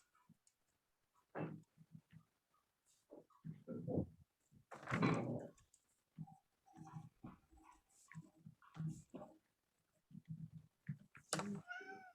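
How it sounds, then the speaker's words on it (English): A cat meows faintly a few times in a quiet room, among soft clicks and light tapping noises. "I hear the cat."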